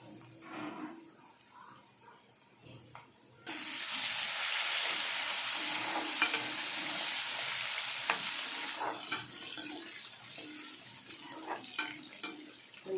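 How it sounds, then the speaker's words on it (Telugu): Curry leaves and asafoetida hit hot oil with a sudden loud, steady sizzle that holds and slowly eases, following a quieter stretch of faint kitchen clatter while cooking tomato pappu. "తర్వాత కరివేపాకు వేసానండి. తర్వాత ఇంగువ పోసానండి."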